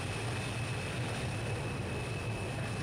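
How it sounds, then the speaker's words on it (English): A propeller airplane crosses the sky in the Transport Fever simulation game, a steady, even engine drone with a faint high whine, continuous and moderately distant, no voices. "Another plane going across the sky there, look."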